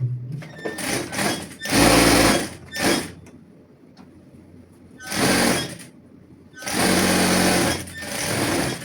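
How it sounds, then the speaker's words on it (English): A sewing machine stitches the crotch seam of pyjama pants in loud, close bursts, running a second or more each and separated by short pauses. "We are going to sew straight down with half of an inch, the crotch area. We are going to sew it down."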